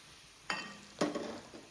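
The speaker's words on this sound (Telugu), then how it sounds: "ఈ బీన్స్ని ఆయిల్లో ఉల్లిపాయలో బాగా వేగనివ్వాలి" Beans frying in oil with onions and ginger-garlic paste in a pan, two sharp sizzling bursts as the mixture is stirred, close and fairly quiet, with a soft crackle trailing after.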